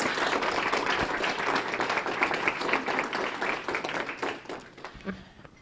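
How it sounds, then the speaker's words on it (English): Sustained applause from an audience at a rededication ceremony for a gender and sexuality center, many hands clapping densely and steadily before thinning out toward the end. "So if we could also give Emily a round of applause"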